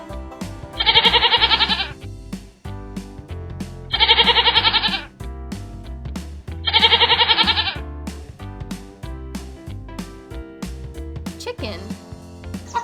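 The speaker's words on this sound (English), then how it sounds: "Goat." A goat bleats three times at even intervals of a few seconds, each call loud and wavering, over a light background music track.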